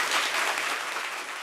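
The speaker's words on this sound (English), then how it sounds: "I'm going to ask that there's no applause, no booing" A city council meeting audience applauds, a steady dense wash of clapping from many hands that fades slightly toward the end.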